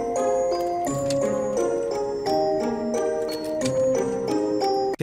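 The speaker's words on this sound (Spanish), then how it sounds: "Ahí se introdujeron unos pizzicato" Plucked pizzicato string notes bounce in a quick, light pattern over a soft accompaniment, a short lively musical passage with no voices.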